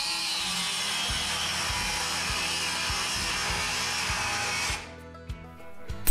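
A power tool grinds steadily through a bolt on a rat rod wrecker transmission, a loud continuous whine with rhythmic low pulses, cutting out near the end and leaving quieter clunks.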